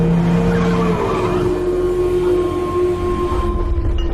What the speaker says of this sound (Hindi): वो गाड़ी रोकता है।